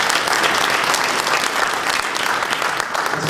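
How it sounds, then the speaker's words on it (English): A conference audience gives a round of applause, loud dense clapping from many people sustained evenly throughout. "Give them a round of applause for that"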